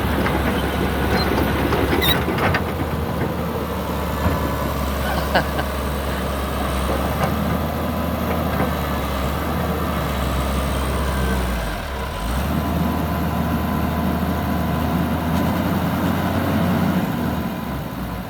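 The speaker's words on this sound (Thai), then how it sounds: "ส่วนเครื่องนั้นโอเคครับ เครื่องเดิม" A Komatsu PC200-3 excavator with a weak hydraulic pump idles while digging sand, its engine giving a loud, steady, low diesel drone that barely changes for the whole stretch, with no voices over it.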